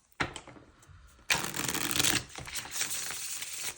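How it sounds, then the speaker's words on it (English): Tarot cards being shuffled up close in two quick bursts of crisp riffling and slapping, quiet and with no talking. "We're going to shuffle it one more time."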